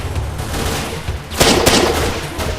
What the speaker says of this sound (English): fire 2 to 4 round bursts